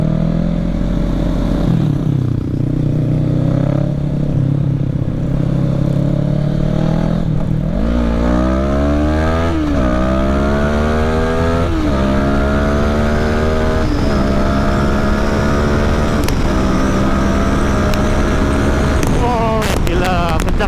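A Kawasaki ER6N motorcycle fitted with an Akrapovic exhaust revs and pulls hard, its engine note climbing through several rising sweeps with gear changes, loud and close, and a rider exclaims excitedly over it.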